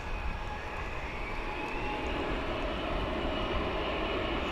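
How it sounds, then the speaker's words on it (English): An American Airlines Airbus A321 jet rolling out after landing at DFW International Airport gives a steady, distant roar of engine noise lasting several seconds, with no voices. "an American Airlines jet just landed from Oklahoma City, an Airbus A321"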